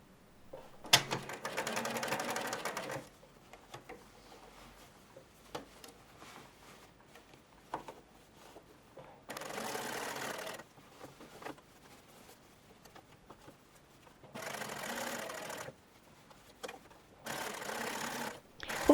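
A sewing machine stitches dress sleeves in several short bursts of rapid mechanical whirring, close and clear, separated by quiet pauses with soft handling noises.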